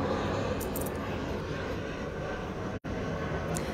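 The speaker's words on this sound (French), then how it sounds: "J'attends que l'avion passe." A steady, broad engine roar of an airplane fills the whole stretch, loud and continuous, with a brief dropout near the end.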